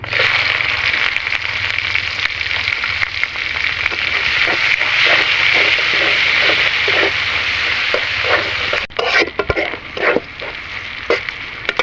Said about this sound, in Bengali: এর মধ্যে এখন আমি দিয়ে দিচ্ছি পেঁয়াজ কুচি